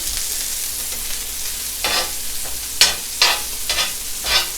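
An onion frying on a hot griddle for a smash burger, with a steady loud sizzle throughout and a few sharper scraping bursts near the end, close by with no talking.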